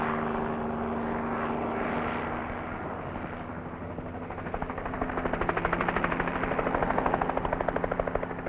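A steady, rumbling helicopter drone over the South Atlantic, rhythmic rotor chop growing slightly louder toward the end, heard alone without voices.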